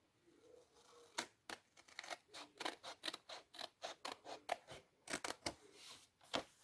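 Scissors snip paper for a Carabelle scrapbook album, about twenty crisp, close cuts in an uneven rhythm, some in quick pairs, against a quiet background with no voices.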